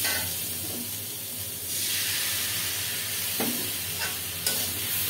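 Grated tomato and a small chopped tomato sizzle and fry in a hot pan, a steady close hiss with occasional stirring scrapes and clinks, no voices.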